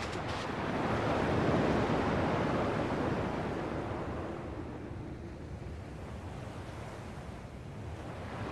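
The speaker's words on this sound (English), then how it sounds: "At least the waves sound the same." Ocean waves in Kingdom Hearts II Final Mix roll in as a broad, steady surf wash that swells and then eases slightly, heard alone without speech.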